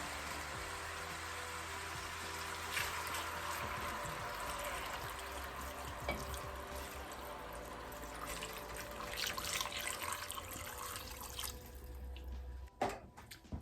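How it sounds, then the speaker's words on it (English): Water, six cups, poured into a pot of Polish dill pickle soup with chicken base, giving a steady broad splashing rush that runs continuously and ends with a clunk near the close. "we need to add our water. So let's add 6 cups of that."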